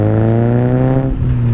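A rusty Mazda MX-5 rebuilt as an RX-5 drones out a loud, steady exhaust note with strong tonal harmonics, dipping briefly near the end as it drives along.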